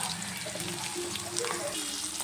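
Onions frying in a pan for a Rayalaseema dish: a steady close sizzle with soft crackling and faint scraping, alone with no talk.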